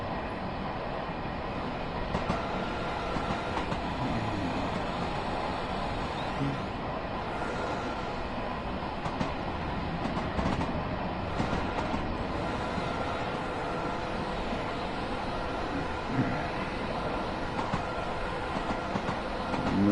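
Continuous rumble of a train running on rails in the Train Sim World 2 video game, Long Island route, with steady rail clatter and faint clicking throughout, no talk.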